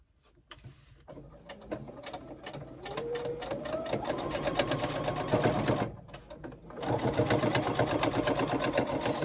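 A sewing machine stitches the side seams of a lining, running in steady bursts with a brief pause, its motor note climbing and its pitch changing partway through as it crosses a thicker pocket overlay.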